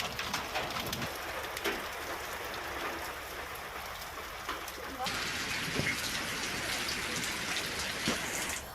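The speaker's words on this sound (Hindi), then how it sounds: "तेज आंधी के साथ बारिश हुई है" Heavy rain falls during a strong windstorm in Bihar, a continuous loud hiss of drops on surfaces throughout, with a brief change in texture midway and faint birds in the background.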